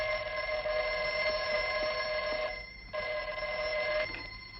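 A telephone bell rings in a colorized vintage TV drama scene, with two long, steady, bright bursts separated by a short pause, close and loud with no talking.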